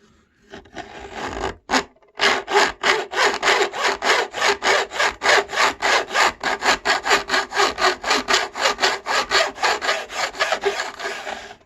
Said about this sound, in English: I'll get the big round over with the crown fret file.